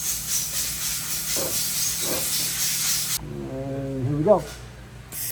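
Welding on the corners of a steel tooling holder for a press gives a steady, close hiss for about three seconds, then stops as someone speaks briefly.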